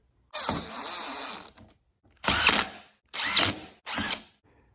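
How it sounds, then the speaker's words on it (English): Small screws being driven into the cover plate of a 1964 MGB lever-arm shock absorber over a gasket, heard as four short ratcheting bursts of close tool whirring separated by brief pauses. "I'm going to get all the little screws and put the screws in."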